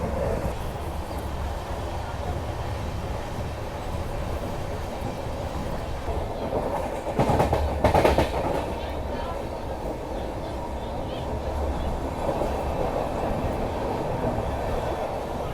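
The Secunderabad Duronto Express, an Indian express train approaching Secunderabad, runs on its rails with a steady, continuous rumble heard from on board, swelling briefly louder midway.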